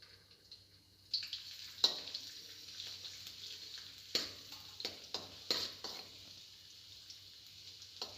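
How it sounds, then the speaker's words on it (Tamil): Quiet, steady sizzling of chopped garlic and green chili sautéing in oil in a pan, with scattered clinks and scrapes of stirring throughout. "அதில் நம்ம பொடியாக நறுக்கி வச்சுருக்க பூண்டு பச்சை மிளகாய் போட்டு நல்லா வதக்கி எடுத்துக்கலாம்."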